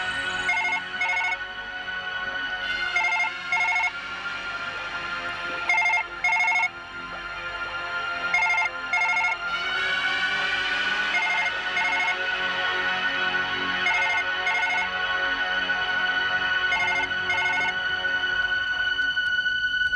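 A phone ringtone in a Hindi horror drama repeats its electronic melody in steady cycles for about twenty seconds, loud and close, with no talking over it.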